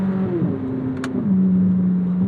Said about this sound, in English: That LT6 engine is insane, dude. The noise, the power delivery,